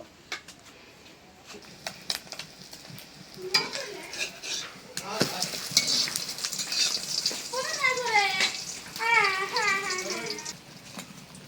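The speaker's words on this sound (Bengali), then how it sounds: "এখানে 2টা করে ডিম দিয়ে ভাজছি" Eggs fry in a wok, two at a time, giving a soft sizzle with scraping and stirring clatter of a utensil against the pan, and a voice talking over the cooking.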